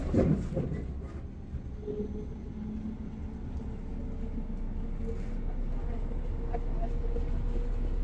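A nearly empty suburban passenger train in Australia rolling along, a steady low rumble and rattle of the carriage heard from inside, continuous and fairly even.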